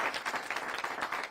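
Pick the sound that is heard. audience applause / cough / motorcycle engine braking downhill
audience applause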